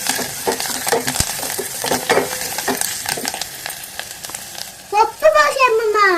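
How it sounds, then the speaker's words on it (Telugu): Tempering spices with crushed garlic crackle and sizzle loudly in hot oil for a toor dal and drumstick leaf curry, with busy stirring throughout and a voice speaking over the frying toward the end. "పోపు అంతా కూడా ఇలా అయితే వేపేసుకోండి."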